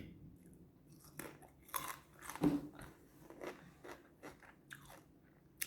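A large apple being bitten and chewed up close, with sharp crunchy bites followed by wet, irregular chewing that rises to a louder crunch midway, no talking.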